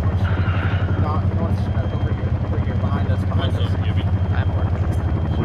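Steady rotor drone and engine whine from a Chinook helicopter in the military video game Arma 3, loud and continuous throughout, with radio and squad voices talking over it.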